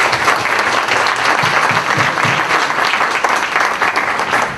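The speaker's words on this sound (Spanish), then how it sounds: "Démosle una cordial bienvenida con un aplauso." A crowd applauds loudly and steadily, dense clapping filling the whole stretch without pause.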